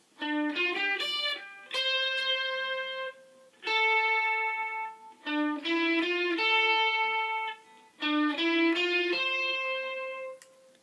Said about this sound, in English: Now the lead guitar sounds like this.